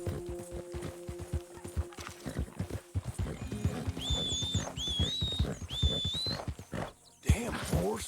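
Horse hooves clip-clop in Red Dead Redemption 2, a steady rhythm of hoof strikes over game ambience, with whistle-like rising calls in the middle and a brief drop-out before a final thump.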